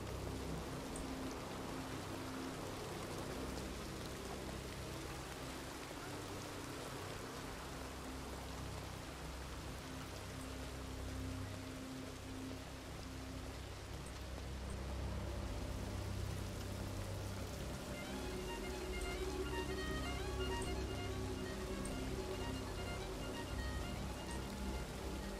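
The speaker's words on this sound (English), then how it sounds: "I just want to stand back here right now since it's raining so hard." Heavy rain in the Red Dead Redemption 2 roleplay world, a constant soft hiss of downpour on surfaces that stays fairly quiet and even, with a faint low rumble beneath and no talking.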